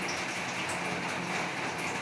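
Steady, dense rain pours down without pause, a constant hiss of drops hitting surfaces.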